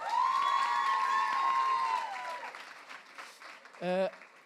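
An audience applauds at an evening association awards event, a steady wash of clapping with cheering voices that thins out over a few seconds, ending with a brief shout.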